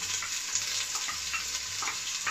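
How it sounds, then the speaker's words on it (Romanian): Hot cooking oil sizzles steadily in a frying pan on the stove, set to cook pork jowl with green beans. The bright crackle continues throughout, with occasional soft stirring scrapes and no talking. "Uleiul nostru tocmai ce s-a încins."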